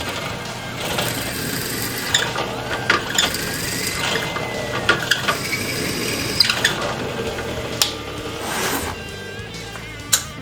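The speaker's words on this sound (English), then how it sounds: "Now we're going to get the center of the bowl blank drilled out" A drill bores out the center of a maple bowl blank, grinding and whirring close by with irregular bursts, clicks and mechanical rattles as the bit works through the wood.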